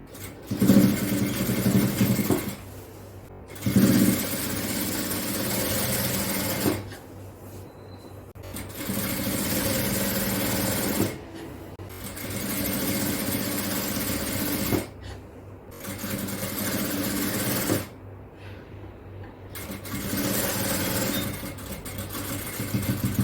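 A sewing machine stitches a folded hem on a child's frock-style night dress, running loud and close in several long bursts separated by short pauses.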